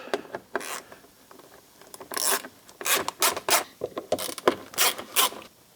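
A 7mm socket wrench ratchets out the small fasteners of cab lights on a 2005 Ford F350 Power Stroke, giving close, rasping clicks in uneven bursts that grow louder and more regular toward the end.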